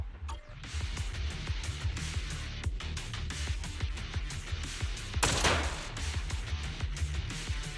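Rapid gunfire from Zenless Zone Zero, a dense stream of sharp overlapping shots running almost continuously, with a brighter, harsher burst near the end, loud and close with no talk.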